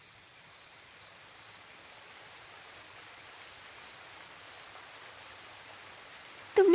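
A distant waterfall rushes as a soft, even broadband hiss that swells slightly over time, with a sudden louder burst at the very end.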